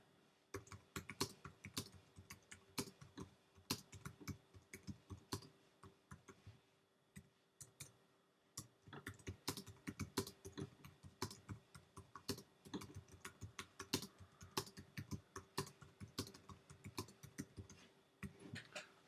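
Keys clatter on a computer keyboard in fast, uneven bursts with one short pause partway through. The typing is close and fairly quiet, and nobody speaks.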